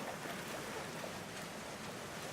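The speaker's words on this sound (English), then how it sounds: "He's got his little paddle out and everything. floating around in his little raft." A palico paddles a small raft across water in Monster Hunter World, giving a steady wash of flowing, lapping water that stays fairly faint and constant throughout, with no voices.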